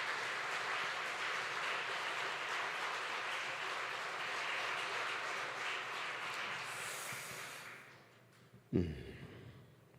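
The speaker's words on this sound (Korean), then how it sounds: "다시 한번 따뜻한 격려의 박수로 함께 하겠습니다" Steady applause from a church congregation fills most of the clip, then fades out, followed by a single short thump.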